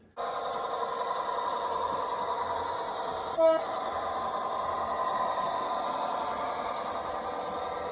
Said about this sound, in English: Bought a Piko G-scale 25-ton locomotive that came with radio control and sound.